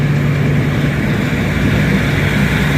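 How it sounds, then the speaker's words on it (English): Steady churning roar of propeller cavitation behind a diesel-powered boat, a constant rushing, bubbling rumble with a low hum underneath. "There's the cavitation from the propellers."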